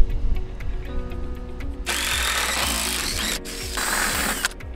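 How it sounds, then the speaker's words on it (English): Power tool drilling off a rivet head from a wiring bracket on a used boat, starting with rattling mechanical clicks and then a loud sustained whining grind, briefly pausing and resuming, close by with no talking. "So we took the head off the rivet,"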